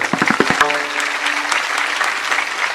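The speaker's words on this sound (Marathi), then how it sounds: "एकदा तुम्हीच तुमच्यासाठी प्रेमानं टाळी वाजवा सर्वजण" Audience at a village kirtan in Parkhed, Buldhana breaks into applause: a few separate claps up close, then a dense, steady wash of clapping from the whole crowd that carries on to the end.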